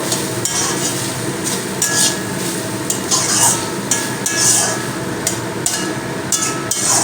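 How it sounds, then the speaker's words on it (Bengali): Vegetables with salt being stirred in a pan over a low gas flame, with steady rhythmic scraping strokes and a constant sizzle underneath, close and fairly loud, continuing without pause. "এখানে পরিমাণ মতন আমি নুন দিয়ে দিচ্ছি তো নুন দিয়ে একটু নেড়ে দেবো"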